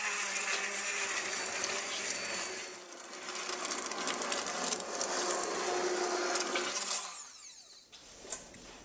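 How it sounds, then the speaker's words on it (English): An immersion blender whirs steadily for several seconds pureeing potato soup, dips briefly, then runs again before stopping with a small clunk near the end. "take an immersion blender and puree everything until it's nice and smooth"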